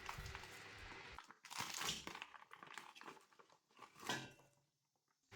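Frozen crayfish tails tumbled into a large bowl, giving hard, hollow clacks and crunching knocks in a few bursts, close and fairly loud, with no talking.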